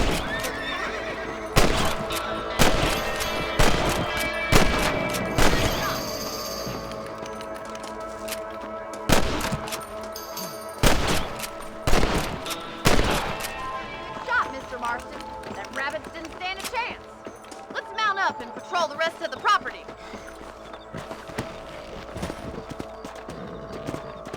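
In the Red Dead Redemption video game, a rifle fires at rabbits in a burst of sharp shots, then a second cluster, among horse whinnies, clip-clopping hooves and background voices.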